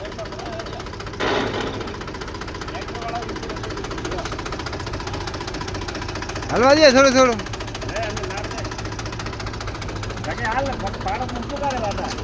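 A tractor engine runs steadily in a field in Rajasthan, a continuous low throbbing drone throughout, with a brief louder revving surge midway; people speak over it.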